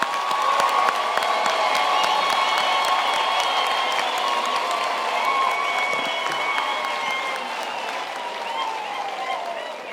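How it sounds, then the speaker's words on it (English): A large audience applauds graduates at a university graduation ceremony, a sustained, even wash of clapping with scattered cheers and crowd voices mixed in. "I think we can give our graduates another hand of applause"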